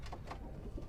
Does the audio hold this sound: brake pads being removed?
no